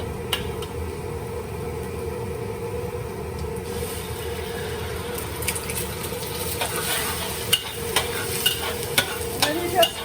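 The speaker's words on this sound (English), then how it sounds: "And then you just scramble the egg in the pan." An egg cracked into a pan with a teaspoon of oil is stirred and scrambled while it fries, giving a steady close sizzle with scraping stir strokes and a few sharp utensil clicks toward the end.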